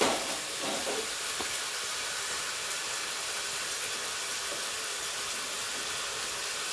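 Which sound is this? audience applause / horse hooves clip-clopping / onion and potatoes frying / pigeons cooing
onion and potatoes frying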